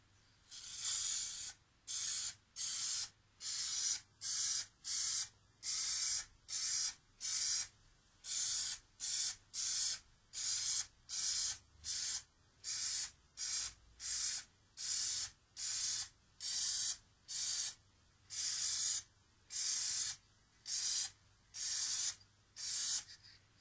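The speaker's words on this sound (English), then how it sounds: "I've decided to give them spray lacquer." Repeated bursts of aerosol spray hissing, about thirty short sprays in steady rhythm with brief pauses between, close and fairly loud.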